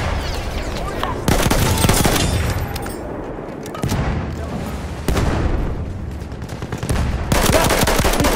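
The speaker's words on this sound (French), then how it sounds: "Là, mitrailleuse ennemie." Enemy machine gun fire from the Battlefield 1 Domination map Soissons rattles in dense, loud bursts separated by brief lulls, with distant booms mixed into the chaotic battlefield din.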